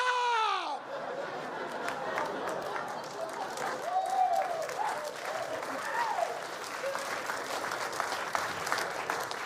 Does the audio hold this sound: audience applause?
yes